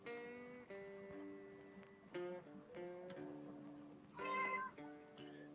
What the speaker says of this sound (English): You're not gonna keep interrupting my live stream, kitty cat.